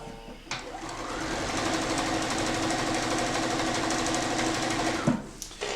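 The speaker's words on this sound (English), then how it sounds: "I'm sewing on the long side, and I'm not covering any seams yet." A sewing machine stitches quilt block pieces in one continuous run of steady, rapid needle chatter lasting about four seconds, starting and stopping abruptly, close by with no talking.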